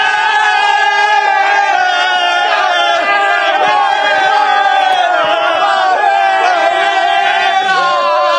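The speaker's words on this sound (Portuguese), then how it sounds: "A torcida do Palmeiras é uma coisa inacreditável." Palmeiras football supporters chanting together outside a stadium before a Libertadores match, a loud, continuous sung chant from a large crowd with cheering and shouts throughout.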